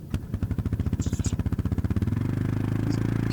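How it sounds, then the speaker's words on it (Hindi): Motorcycle engine on a Spiti trip, struggling and suspected of a dusty air filter, puttering in a fast regular chug that swells and then settles into a steadier, louder drone. It is close and prominent, with no speech over it. "आप जब एक्सीलेटर दे रहे हो, नहीं ले रही, आप एक बार स्टार्ट करोगे?"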